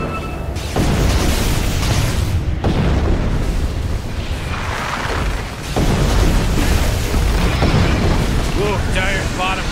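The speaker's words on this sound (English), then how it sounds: "Oh great, Dire's bottom tower just got destroyed!" A tower collapsing in Dota 2, heard as heavy booming explosions and rumbling debris that run through most of the clip, loud and close, with a voice talking over part of it.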